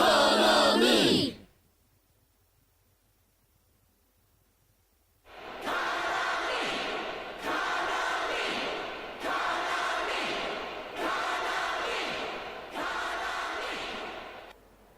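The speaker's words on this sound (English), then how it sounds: "The crowd's going wild for some reason." A cheering fan crowd in the rhythm game Persona 4: Dancing All Night bursts out briefly, falls silent for several seconds, then chants in five loud, evenly spaced rhythmic waves.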